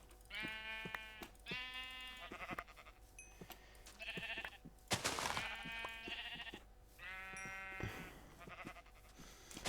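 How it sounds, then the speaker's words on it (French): Sheep bleat repeatedly in a blocky survival video game, several loud harmonic bleats spaced across the stretch with short pauses, a brief burst of noise in the middle, and no talking. "Le mouton, je continue à le buter pour la viande, c'est toujours ça."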